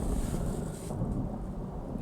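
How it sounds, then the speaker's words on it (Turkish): A low, deep rumble of thunder rolling through heavy rain, with a steady hiss of rainfall over it and no voices. "Ay çok yağmur yağıyor. Gök gürüldüyor."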